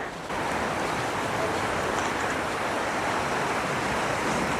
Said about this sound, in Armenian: ձայներից արդեն լսում եք, արփայի ափին, արփա գետի ափին